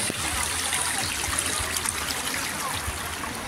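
River water flows and babbles steadily, a broad continuous rushing close by with no voices, on the Dupinga River in Gabaldon.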